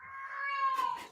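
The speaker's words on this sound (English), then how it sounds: "Yeah, that's my cat." A house cat lets out one long drawn-out meow, close and clear, rising then trailing off with a rougher ending in a quiet room.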